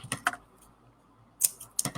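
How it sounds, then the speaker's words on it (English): Scissors snip through excess craft string, a few sharp close clicks in quick clusters separated by brief quiet. "then you can just cut the excess off."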